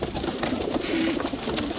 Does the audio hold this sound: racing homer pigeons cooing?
yes